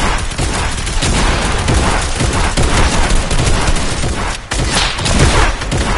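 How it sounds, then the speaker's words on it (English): Heavy, continuous gunfire in Fortnite Team Rumble, loud dense bursts and booms running almost without pause, with one brief dip partway through. "I just see a bunch of gunshots, bro."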